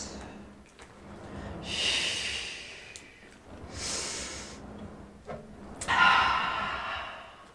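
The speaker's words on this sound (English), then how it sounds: "Keep breathing, guys." Forceful breaths during a Pilates reformer workout, heard as three or four distinct airy exhales and hisses spaced a couple of seconds apart. They sound close over a low room background, with no speech.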